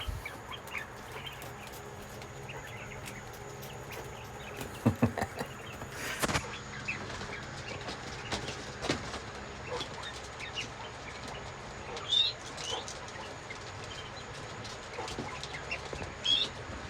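Quail and chickens kept in a backyard poultry pen chirp and call in scattered, fairly faint bursts over a steady low background, with a brief flutter and a few sharper calls standing out.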